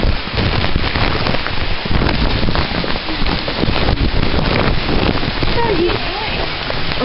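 Heavy thunderstorm rolling through the Lehigh Valley, with steady loud rain and low thunder rumbles under dense, continuous noise recorded outdoors at close range, with some wind buffeting on the microphone.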